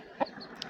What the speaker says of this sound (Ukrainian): А ти вже ко-ко-ко і вже кличеш своїх курей сюди.